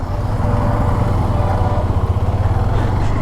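A Hero Xtreme 125R motorcycle engine runs again after stalling mid-ride, giving a steady, loud, close low rumble that continues without pause.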